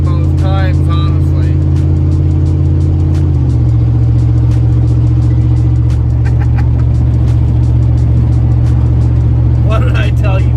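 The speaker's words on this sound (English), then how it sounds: "You really have to listen to it in order to really realize that the exhaust is broken." An engine drones steadily inside a car on a long road trip, with a low exhaust rumble that drops in pitch partway through as the car shifts; other broadband noise is present throughout, along with people talking over it.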